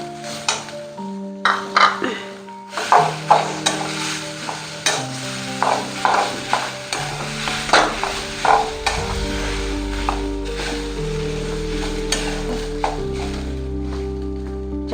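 A spoon stirs and scrapes mashed potato with turmeric in a sizzling pan, giving repeated rhythmic clinks and scrapes over a steady fry, with some background music.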